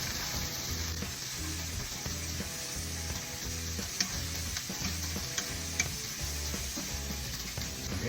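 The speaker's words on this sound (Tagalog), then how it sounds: "haluin lang hanggang maluto" Shrimp seasoned with salt and black pepper sizzles steadily in a pan while being stirred, with a rhythmic scraping of the utensil repeating throughout and a few sharp clinks standing out.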